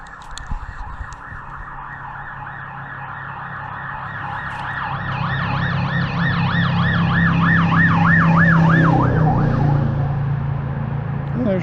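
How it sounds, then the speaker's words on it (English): An emergency vehicle siren sweeps up and down in a loud wailing pattern, approaching and swelling to its peak before fading, over steady street traffic rumble near an 82 S10 pickup. "Here comes a siren."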